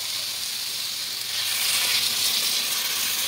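Water hits a sizzling spice mixture in a pan while a vegetarian potato and soybean curry cooks, making a steady, loud hiss that swells and roughens about halfway through.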